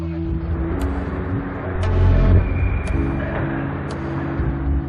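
A car engine hums steadily at close range, swelling briefly midway as the vehicle pulls off, with low rumbling throughout and no talking.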